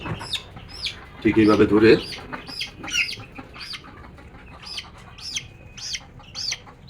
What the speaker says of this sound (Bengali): এখন আমরা মুরগির বাচ্চাকে ধরলাম